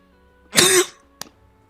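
A person coughs after choking on a drink, giving one harsh, forceful cough burst up close, followed by a short, quieter second cough over near silence.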